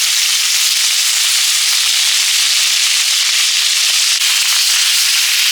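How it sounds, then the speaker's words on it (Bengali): Potatoes frying in hot oil, a loud, steady, dense hiss and sizzle that fills the whole stretch without pause, close to the pan, with no voices. "আলু বেগুন ভেজে নেবো, আলুগুলো আগে দিচ্ছি"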